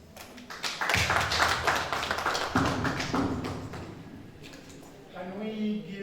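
An audience at a training session claps after a presentation, a dense, lively patter that starts sharply, holds for several seconds and then thins out as a voice begins speaking.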